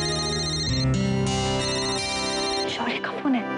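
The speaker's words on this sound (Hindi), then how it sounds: "शौर्य का फोन है।" Mobile phone ringtone playing a bright electronic melody, loud and close, with a sustained tune that shifts pitch over several seconds before a brief burst of other sound near the end.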